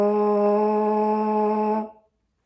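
A brass mouthpiece is buzzed with the lips as a lip flexibility exercise. One sustained, reedy buzzing tone holds steadily for about two seconds, then stops abruptly into silence.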